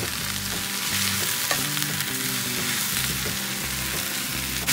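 Chinese chives stir-fry in a hot pan, a loud, unbroken sizzle with the rustle and scrape of the greens being tossed, close and with no voices.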